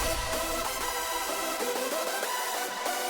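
Drum break from an electronic track played with no background elements, dense full-band percussion with steady rhythmic hits and tonal synth stabs throughout, loud and continuous.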